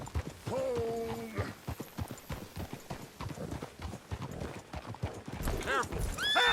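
Horse hooves clip-clopping at an irregular walking rhythm in the Red Dead Redemption 2 open-world game, with a whinny early on and another neigh near the end, close and moderately loud.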